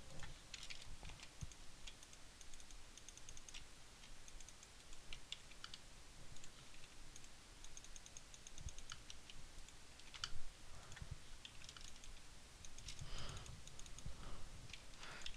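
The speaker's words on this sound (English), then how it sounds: "and then just keep clicking. Right-clicking on each new block or brush." Mouse clicks in Valve Hammer Editor, a series of sharp clicks, some clustered and some spaced apart, sounding close and fairly faint over a steady background hiss, with no voices.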